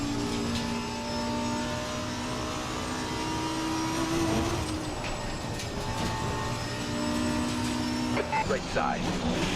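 MX5 Cup race car engine in a sim racing game on the Nordschleife, a steady droning engine tone holding pitch down a straight with another car nearby, while a voice speaks over it.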